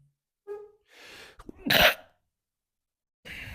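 A single close, sharp sneeze from a person, preceded by a short intake of breath, followed by a quieter trailing breath in an otherwise quiet room.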